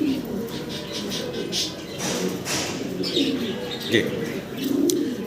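Pigeons coo in low, repeated throaty calls at a breeder's loft of 2017-bred birds, the soft cooing rising and falling steadily over about five seconds with faint chirps and rustling in the background.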